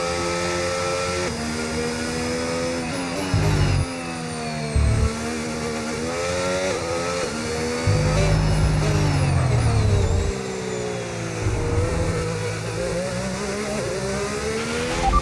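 Formula 1 race car engine in the F1 25 video game, during a wet-weather sprint race: a continuous high-pitched, whining engine note that rises and falls through gear changes, with brief low thumps, loud and steady throughout.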